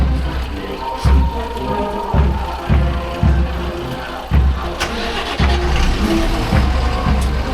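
A broken-down truck's engine cranks and turns over at a street rally, with loud low rumbling bursts repeating roughly every second amid crowd noise, close and fairly loud.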